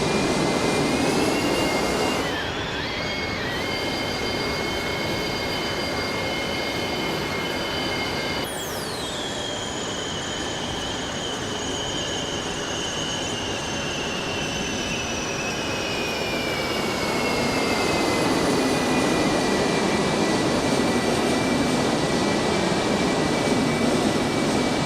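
Steady roar of the iniBuilds Airbus A300-600 jet engines in X-Plane 12, with whining engine tones that hold level, then jump sharply and slowly fall. No one speaks.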